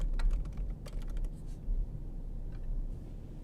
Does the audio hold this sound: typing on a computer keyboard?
yes